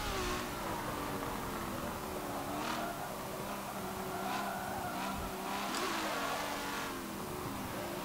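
Tires spin and squeal repeatedly over a loud, continuous engine roar in Forza Motorsport 7, with sharp gear changes and bursts of wheelspin throughout.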